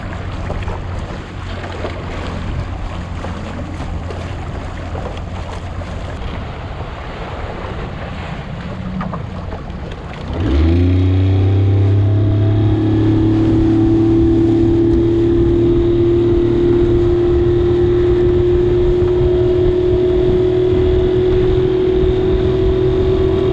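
Fishing boat motor rumbles through wind noise on the flats, then revs up midway into a loud, steady drone with a rising whine as the boat gets underway.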